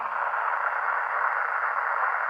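Steady, unbroken hiss of radio static from a receiver with an outdoor antenna monitoring the 438.875 MHz Szczytno repeater about 40 km away, an open squelch with no signal coming through.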